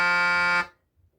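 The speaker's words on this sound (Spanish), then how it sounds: "camiones grandes, enormes, que tocan su claxon y suena así" A single loud, low, steady horn blast from a large truck lasting about half a second, cutting off abruptly into silence.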